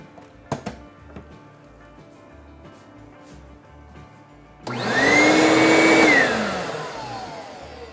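A Ridgid 14-gallon 6HP wet/dry shop vac is plugged in after some light handling knocks. It kicks on abruptly into a loud, close, whining roar that holds steady and then begins to wind down.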